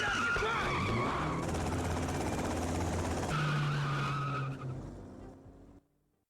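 A car in Grand Theft Auto: Vice City screeches away with tires skidding and engine roaring, loud and close, the squeal and roar fading off into silence as it speeds away.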